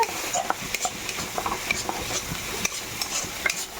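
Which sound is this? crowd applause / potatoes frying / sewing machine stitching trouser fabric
potatoes frying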